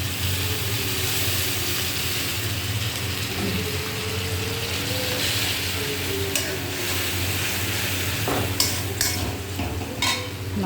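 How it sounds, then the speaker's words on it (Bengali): Water splashes into a pan of sizzling spices, giving a steady frying hiss with occasional metallic scrapes and clinks of a spatula toward the end, with no talk. "হালকা করে একটু জল দিয়ে দেবো"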